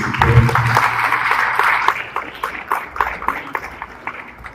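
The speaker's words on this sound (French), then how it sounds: "Je vous demande de les applaudir encore une fois, s'il vous plaît." An audience applauds at an official event with a United Nations representative and an education minister, a dense wash of clapping that thins into scattered claps, heard from within the room.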